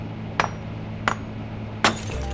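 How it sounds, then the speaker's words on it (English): Hammer cracking meth in the video game Schedule 1: three sharp glassy smashes spaced roughly evenly apart, crisp and close over a steady low game hum. "We grab the hammer."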